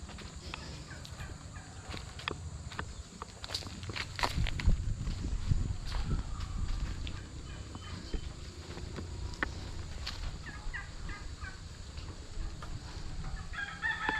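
Turkeys gobble and fowl cluck and crow outdoors, a busy farmyard chorus of repeated calls over low background rumble.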